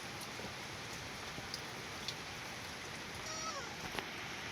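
Rain falling steadily on a tiled roof in a tribal hill village during the monsoon, a constant soft hiss with scattered drips and a faint animal cry partway through.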